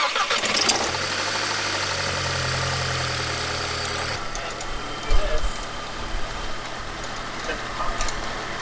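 Audi A3 engine idling with the dipstick pulled out, steady low running that shifts partway through, followed by a quieter, rougher idle with a few irregular bumps.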